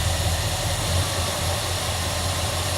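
A Dodge Monaco engine idling lumpy and rough, apparently running too rich, gives a loud, steady, close low drone with a slight uneven pulse throughout.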